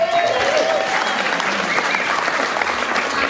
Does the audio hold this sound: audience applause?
yes